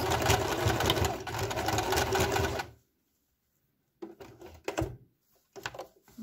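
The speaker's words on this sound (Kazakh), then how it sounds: "Бұны енді машинкада өңдейміз." A sewing machine stitches the upper edge of a trouser waistband, running in a steady, loud whir for a few seconds, then stopping, followed by a few brief starts and handling knocks nearby.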